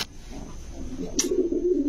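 Soft, low pigeon cooing rises toward the end, close by, with a brief sharp click and faint background hum.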